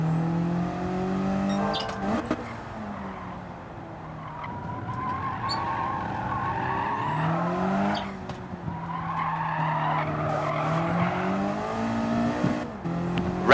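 Race car in Gran Turismo 7 on a time trial, engine revving hard through gears with rising and falling pitch sweeps, tires squealing and skidding through corners, loud and close throughout.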